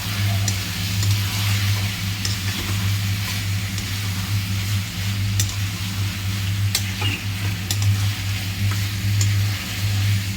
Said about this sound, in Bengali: এবারে কেটে রাখা ছোট ছোট করে আলু দিয়ে দিলাম।